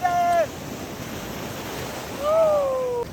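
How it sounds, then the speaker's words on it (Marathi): Sea waves break on the beach at Alibag in a steady, loud surf roar mixed with wind noise, while two brief calling voices rise above it near the start and the end. "अरे लाट आली रे"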